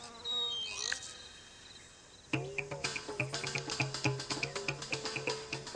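Beetles flying between garden flowers: a buzzing insect drone rises and fades, then after a pause a close, rapidly pulsing buzz of wingbeats continues steadily, with no voices.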